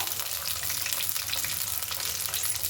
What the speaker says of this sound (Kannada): ಇದು ಸ್ವಲ್ಪ ಫ್ರೈ ಮಾಡ್ಕೊಳ್ಳಿ ಈರುಳ್ಳಿ ಬೆಳ್ಳುಳ್ಳಿ ಕರ್ಬೇವಿನ ಸೊಪ್ಪು